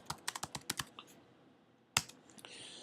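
Quick keystrokes on a computer keyboard typing a short command, a rapid run of about eight close clicks, a pause, then a louder key press and a couple of final taps.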